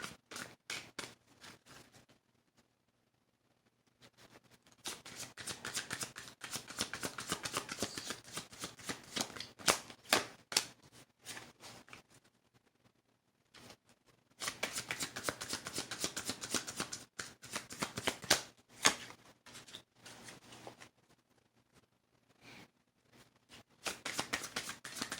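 Tarot cards are shuffled by hand in long riffling bursts, crisp rapid flicking that stops and starts again several times with brief quiet pauses between.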